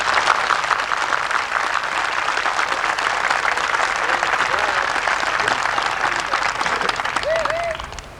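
Steady audience applause at an outdoor unveiling ceremony, dense clapping from a large crowd that holds for several seconds before tapering off, with scattered voices and faint calls underneath.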